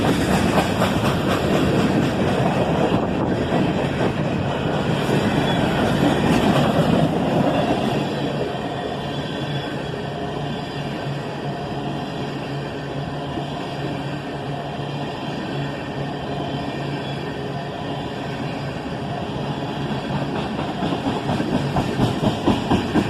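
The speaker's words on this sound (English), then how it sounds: "here we see the train moving over onto the siding track" A train with a big cut of tank cars rolls slowly onto a siding track with a steady rumbling clatter, louder at first, then settling into a softer continuous drone.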